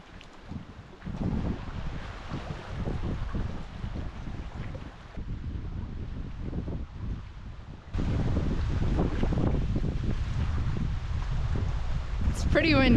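Strong wind gusting at a lakeside campsite in the Boundary Waters wilderness, a steady loud roar that surges louder toward the end, with a voice speaking over it.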